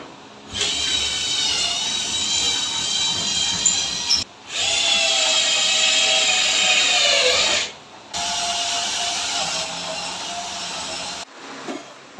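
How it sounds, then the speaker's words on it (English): A power drill whirs in three long bursts while drilling a cable hole during ceiling sheet installation, pitch rising and dipping as it bites, with brief pauses between each run. "I need to drill a hole for the cable to go through."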